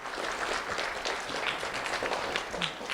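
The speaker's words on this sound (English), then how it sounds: "A round of applause, Dr. Pete Boathatch." A school recognition event audience gives a steady round of applause, a dense, even wash of many hands clapping at moderate distance, sustained throughout without pause.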